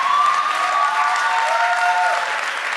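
A church congregation applauds in acclamation of the Lord, a dense, steady wash of clapping from many hands that holds at even loudness throughout, with a held tonal note sounding beneath it.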